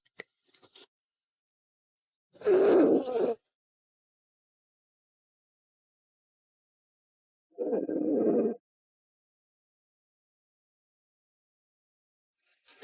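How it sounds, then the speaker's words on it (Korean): A Sapsali dog snores in two slow, rasping snores about five seconds apart, each followed by long silence, close and moderately loud. "우리 소리는 코를 골리며 아주 코를 골며 잘 자고 있습니다."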